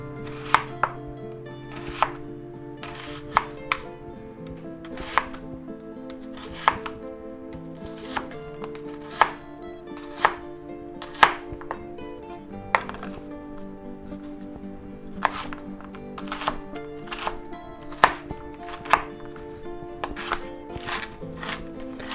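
A knife chops peppers and onions on a cutting board for an omelette with ham and cheese, sharp close taps in irregular bursts with short pauses between runs of cuts.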